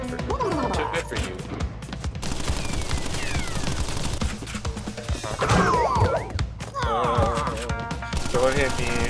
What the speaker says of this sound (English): Don't hit me with your weak bullets from your weak Tommy gun